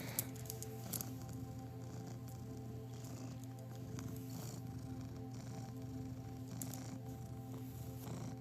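A cat purrs steadily and close up, a low rhythmic rumble that continues throughout with faint rustling and a few small clicks.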